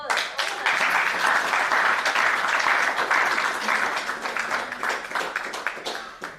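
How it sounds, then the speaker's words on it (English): Audience clapping and applause at a startup pitch event, a dense, sustained burst of many hands lasting several seconds before tapering off, fairly loud and close. "Round of applause."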